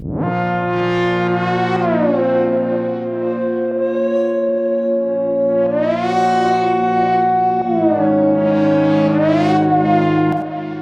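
Two detuned synth oscillators from a Jupiter preset hold sustained tones that glide between pitches, a soft triangle layered with a brighter buzzy sawtooth, steady and loud throughout.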